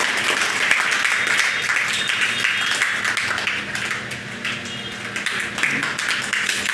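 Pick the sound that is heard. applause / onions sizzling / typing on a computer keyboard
applause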